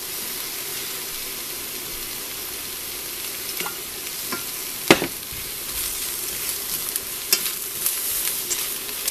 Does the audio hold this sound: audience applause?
no